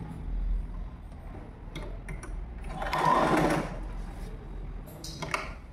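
A sewing machine stitches a folded fabric strip for a school uniform skirt, running in a steady mechanical whir that swells loudest in the middle, with small clicks and handling noises before and after.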